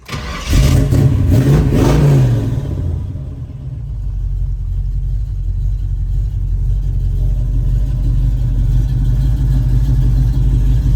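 A 1966 Chevrolet Nova II cranks and fires up, revving hard for a couple of seconds before settling into a loud, steady, rumbling idle close by.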